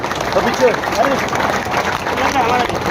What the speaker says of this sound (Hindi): जोरदार तालियां अभी तक